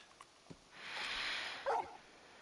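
A large dog in the video game Final Fantasy XVI gives a brief bark and a yip, set against a soft swell of ambient game sound. The calls are close but fairly quiet.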